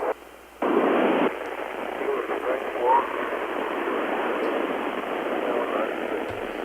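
Ham radio transmission with another station transmitting over it at the same time, a noisy band-limited signal with static and garbled overlapping voices.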